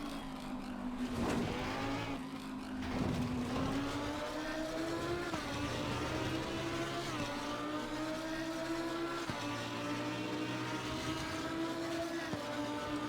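A Lamborghini Huracan EVO2 GT3 racing engine howls around Suzuka in the Assetto Corsa Competizione racing game, loud and continuous with rising pitch through the gears and brief dips at each upshift.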